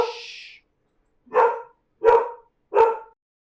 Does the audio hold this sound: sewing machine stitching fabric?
no